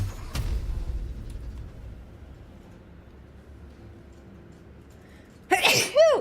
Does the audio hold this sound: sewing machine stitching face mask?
no